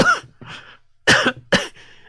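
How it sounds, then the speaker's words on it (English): Four close, sharp coughs in quick succession, short bursts separated by brief silences, with a throaty rasp. "not the Rona, just me coughing."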